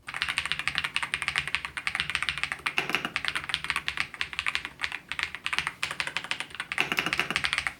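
Rapid, steady typing on an Epomaker Ajazz AK820 Pro compact mechanical keyboard, with dense, close keystroke clatter running without a break and no voices.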